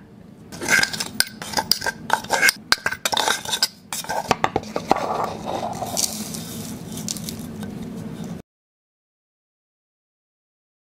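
A metal spoon scrapes and clinks against a pot as ground coriander and turmeric go in, a busy run of clatter and stirring for about eight seconds that then stops abruptly.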